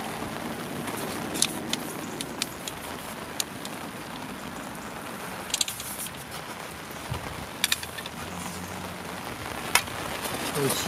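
Steady rain falls on a surface during winter fishing, with scattered louder drops and taps over a constant patter.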